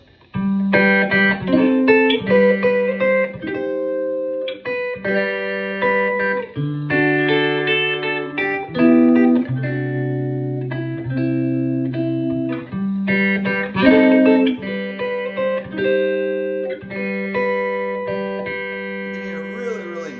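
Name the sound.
Strat Solid electric guitar clean tone with reverb and delay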